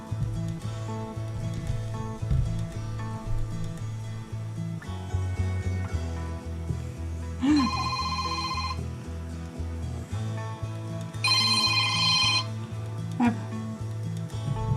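Mobile phone ringing for an unknown sales call, two bright electronic ringtone bursts sounding over a looping instrumental backing track at moderate volume.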